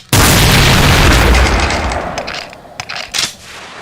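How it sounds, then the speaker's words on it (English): A Revenant in a Doom mod launches a dual volley of straight rockets, giving a loud, dense roaring blast that fades over about two seconds and breaks into a few scattered popping bursts. "It can fire a dual volley of straight rockets"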